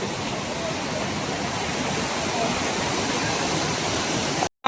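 Kumbharte waterfall, one of two falls with swimmers in the pool below, sends down a steady, dense roar of falling water that holds unbroken before cutting off abruptly near the end.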